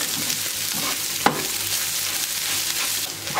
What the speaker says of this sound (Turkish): Hafif şöyle salça kavrulana kadar 1-2 dakika daha kavrulup